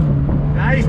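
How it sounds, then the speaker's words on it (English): Exhaust of a 2020 Mini John Cooper Works convertible under throttle in second gear with the top down, a steady droning engine note that climbs in pitch near the end, close and loud. "you can really hear the exhaust a lot more, of course, with the top down, but on throttle, second gear."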